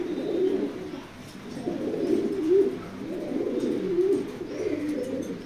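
Racing pigeons coo repeatedly inside a loft, a steady series of low, rolling calls that swell and fade about once a second, fairly close and with no talk over them.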